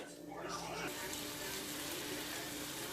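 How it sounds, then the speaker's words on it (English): Chicken sizzles in a pan over medium heat, a soft steady crackling hiss that runs faintly and continuously throughout. "Our chicken has a nice little sizzle going on here."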